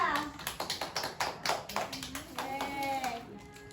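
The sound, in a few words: classroom clapping for Reza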